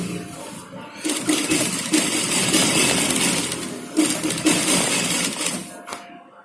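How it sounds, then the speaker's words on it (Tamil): A sewing machine stitches a shirt in two long whirring runs of rapid, steady mechanical clatter, with a brief pause between them, close and fairly loud. "அடுத்தது இந்த பக்கம் தையல் போடுறோம்."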